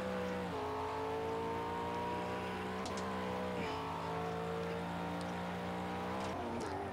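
A McLaren race car in Project Cars revs steadily in-game, its engine tone climbing and dropping with a few gear shifts, sustained and close, with no talk.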